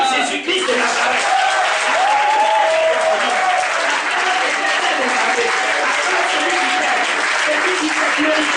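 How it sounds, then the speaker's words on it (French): A church congregation breaks into loud, sustained applause during a French-language sermon, a dense continuous clatter of many hands, while a preacher's voice keeps speaking over it. "c'est l'acclamation"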